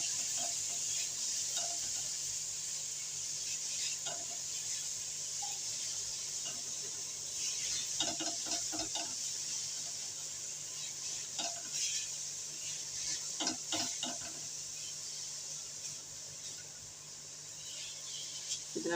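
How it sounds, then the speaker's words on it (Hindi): Carrots sauté in about a tablespoon of oil in a kadai, giving a constant soft sizzle with occasional spoon scrapes and stirring clatters at steady intervals, close by and without talk. "उसमें मैं ये डाल दूँगी गाजरें अपनी और हम इसको इसमें थोड़ी देर भून लेंगे।"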